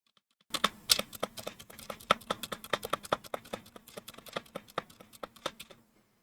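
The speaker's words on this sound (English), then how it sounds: "So here is the space bar." A Redragon mechanical keyboard's space bar is pressed repeatedly in quick succession, producing a steady stream of crisp, close clacks with no talking.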